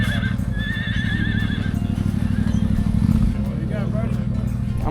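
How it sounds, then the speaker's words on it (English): A donkey brays beside the road on a wet morning during a motorcycle rally on a Yamaha Tenere; wavering, hoarse calls rise over a loud, continuous low engine rumble in the first half. "Here's the donkey."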